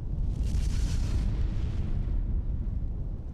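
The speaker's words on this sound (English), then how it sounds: "all 3 craters on the volcanic island of Krakatoa erupted in a massive" The volcanic eruption of Krakatoa rendered as a deep, continuous rumbling roar of explosions, dense low booming that holds steady and fades slightly at the end.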